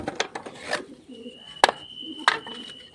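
Pigeons coo and flutter in a loft, with a few sharp wooden knocks and bird calls close by, fairly faint overall.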